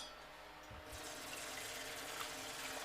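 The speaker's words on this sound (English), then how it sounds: "Let's take a pot. Put water in" Water runs steadily from a tap into a cooking pot being filled for spaghetti in a home kitchen, a continuous close gushing that starts abruptly and holds at an even level.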